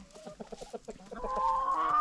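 Several chickens cluck close by in quick, choppy bursts, rising into a louder, drawn-out squawk at the end.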